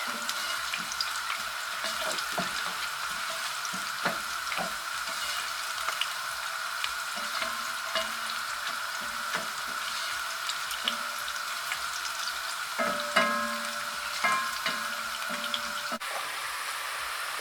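Onions fry in an iron pan with a steady sizzle while a wooden stick scrapes and stirs them in irregular taps and scrapes, close and moderately loud, with no talking.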